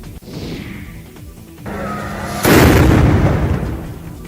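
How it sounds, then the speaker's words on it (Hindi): A ceremonial cannon salute for Krishna's birth celebration in Rajsamand goes off as one loud booming blast midway, rumbling and decaying after quieter crowd and ambient noise. "तोप से सलामी उस शक्ति को दी जा रही"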